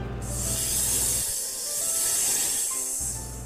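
A snake hisses in a steady, airy, breathy rush that swells and eases over a few seconds, heard alone and fairly close.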